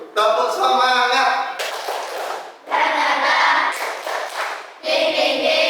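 A classroom of students claps a rhythmic spirit clap in unison, loud and close. Three bursts of clapping are separated by brief pauses, with shouted chanting mixed in.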